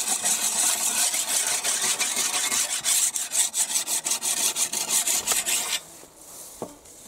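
A scythe blade is sharpened with repeated rhythmic scraping strokes, close and loud, in steady bursts that then fade to quieter scattered scrapes near the end, with no voices.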